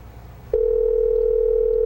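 Telephone dial tone on a call placed as a prank: a brief click, then a loud, steady, unbroken tone that holds for the rest of the clip over faint background hum.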